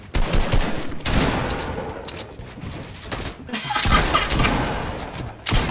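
Rapid bursts of gunfire in Fortnite, loud and close, with repeated volleys and sharp shots spread across the stretch while players talk over the action.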